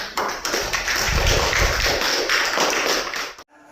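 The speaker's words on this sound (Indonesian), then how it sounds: "Berikan aplaus." A group in a classroom gives steady applause of many hands clapping together, which stops abruptly at the end.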